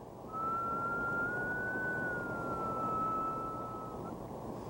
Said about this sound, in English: the whistle of a train, as the train comes towards you and goes away, the note rises and then falls,